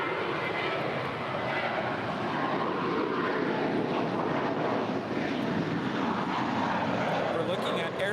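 An Air France Boeing 777-300ER arrives from Paris at LAX, its jet engines making a broad, steady roar that stays loud throughout, with wind rumble mixed in and no clear talk over it.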